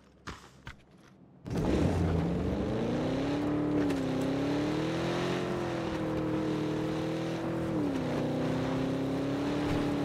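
Engine of a car driven in a video game: after a few brief clicks, a steady droning motor note starts and holds, rising and dipping in pitch as it revs for about eight seconds, fairly loud and alone.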